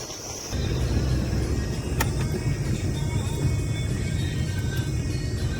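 A steady engine hum and road rumble from inside a moving four-wheeler driven by hand controls, continuous and even, with a faint click partway through.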